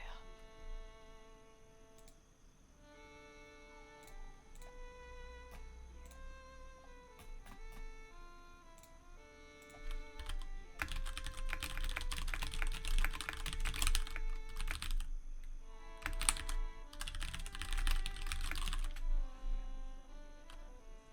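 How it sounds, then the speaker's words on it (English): Computer keyboard typing, at first sparse clicks over tonal game music, then from about ten seconds a dense, rapid burst of clattering keystrokes in two long runs, close and crisp. "I hope you enjoyed my keyboard ASMR just now"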